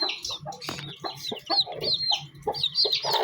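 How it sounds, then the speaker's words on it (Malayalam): Kathikkal-type fighting roosters and hens cluck and squawk in a busy, continuous chatter, some calls sharp and high, close by with no talking. "കത്തിക്കാൽ ടൈപ്പ് കോഴികൾ ഇതാണ് നമ്മൾ വളർത്തിക്കൊണ്ടിരിക്കുന്നത്"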